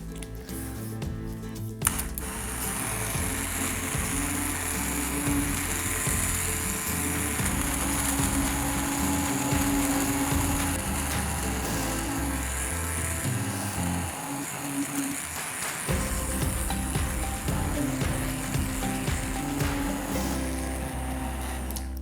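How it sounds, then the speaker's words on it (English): An immersion blender whirs steadily while pureeing roasted cauliflower soup in a pot, a continuous close mechanical drone that briefly drops out near the end and then resumes. "we are going to immersion blender it"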